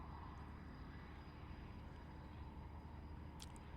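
A jet aircraft flies an aerobatic display at the Farnborough International Airshow, giving a faint, steady distant roar with no other sound over it.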